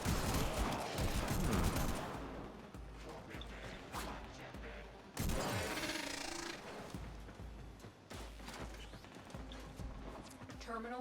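Enemy gunfire in the video game Warframe rattles in dense, rapid bursts with two louder volleys, mixed with game effects and overlapping speech.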